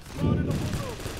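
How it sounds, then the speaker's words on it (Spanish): A short burst of rapid gunfire in the game PAYDAY The Heist, dense overlapping shots packed into about a second with a player's voice shouting over it. "¡Me estoy disparando!"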